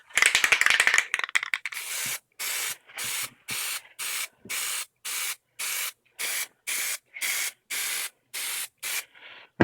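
Short bursts of spray coating hiss onto a plastic cosplay prop holster to build a rough texture, first a dense rapid series, then evenly spaced one-second sprays separated by pauses, close and fairly loud.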